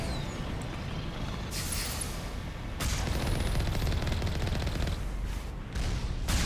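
Rapid sustained gunfire while shooting down heavy turrets in Mass Effect, dense bursts of automatic shots close and loud with short pauses between volleys and no talk.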